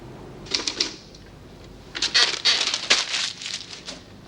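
Typewriter being typed on indoors, a short burst of clacking keystrokes, a pause, then a longer fast run of crisp strikes, close and clear with no talk.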